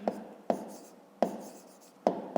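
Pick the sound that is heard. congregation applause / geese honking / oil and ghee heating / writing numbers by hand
writing numbers by hand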